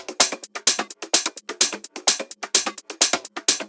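Layered tech house drum loops topped with hi-hats drive a loud, crisp groove of bright, rapid hat ticks over regular punchy kicks, repeating steadily with no voices.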